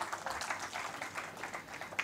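Audience clapping at a mushaira and kavi sammelan as poet Sarita Jain is welcomed, a steady dense patter of many hands throughout, moderately loud with no voices over it.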